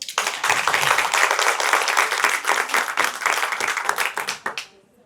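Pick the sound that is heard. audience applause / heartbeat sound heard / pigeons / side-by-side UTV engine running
audience applause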